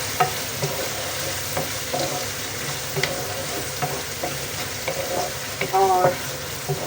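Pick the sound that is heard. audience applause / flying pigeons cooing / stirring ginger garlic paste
stirring ginger garlic paste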